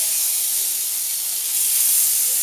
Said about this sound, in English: Then I'm going to go in with my onions, chilli